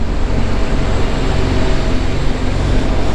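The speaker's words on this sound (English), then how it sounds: "This reefer's running next to me, so it's gonna be a little bit noisy." A reefer trailer's refrigeration unit runs close by beside a Diamond Rio truck, a loud, steady mechanical drone with a low rumbling hum that holds level throughout, with no talk over it.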